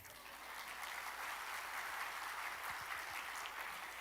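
A congregation at an online church service claps steadily for several seconds, a dense, even patter of many hands with no voices over it.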